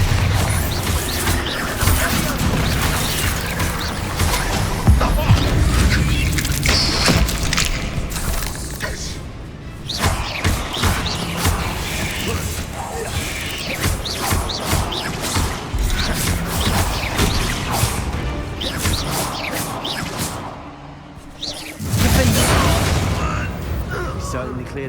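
Repeated Bombarda spell blasts in the game Hogwarts Legacy, loud booming explosions and crashes erupting in bursts over a dense, continuous battle din with voices mixed in.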